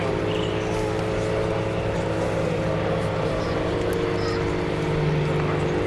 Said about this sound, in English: The Tutor has a top speed of 212 miles an hour or 185 knots and can achieve maximum positive 6G.